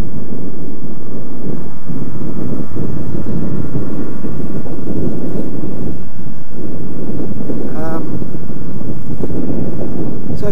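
A Laro Pro Street 350 twin cruiser motorcycle riding at about 60 km/h, heard as a loud, steady engine drone buried under heavy rushing wind buffeting the microphone.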